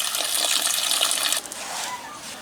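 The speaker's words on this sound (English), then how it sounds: "I'm gonna put some more gas in there, slosh it around, and try to wash this thing out a little bit." Gasoline pours and sloshes inside the gas tank of a Troy-Bilt Horse tiller, a close, bright gush of liquid for over a second that cuts off into fainter trickling and settling.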